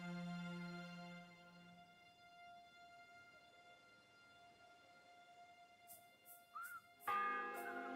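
Faint, distant church bell tolling in the video game Kingdom Come Deliverance 2, a lingering ringing tone that fades, followed near the end by sharper metallic chimes.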